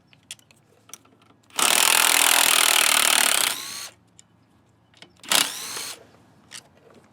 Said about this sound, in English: Now we're going to pull these 3 bolts.